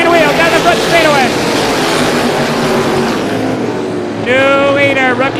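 Stock race cars bang wheels side by side down the front straightaway of an oval, engines roaring loudly with pitch sweeps as they pass, under excited race commentary.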